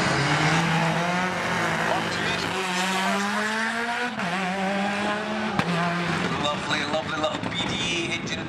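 A Ford Focus WRC rally car at a motoring festival revs hard through its gears, its engine note climbing and dropping in repeated sweeps with some tire squeal. A commentator talks over it.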